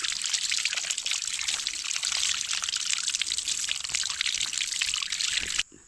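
Clear mountain spring water flows and splashes steadily at a natural spring, a loud continuous trickling pour heard close up and alone, cutting off abruptly near the end.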